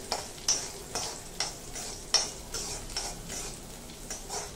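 Green chillies fry in a spoonful of oil in a wok, with a soft steady sizzle under regular tapping stirs, each sharp click of the spatula repeating about every half second, quiet and close.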